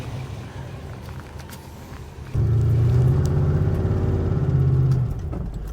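A still-cold car engine revs up as the car pulls away, a steady rumble that rises in level and holds. The engine is heard close from inside the car with no talk over it.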